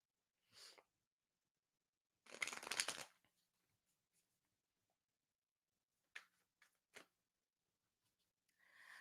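Tarot cards are shuffled in short, quiet bursts of papery riffling, one long flurry among several brief flicks, close by with no talking.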